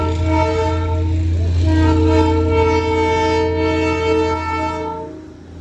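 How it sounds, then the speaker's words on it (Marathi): A train pulling into a station in Darjeeling sounds a loud, sustained horn blast lasting several seconds, close by, over low rumbling rail noise. "आता बघा इथली ट्रेन आलेली आहे."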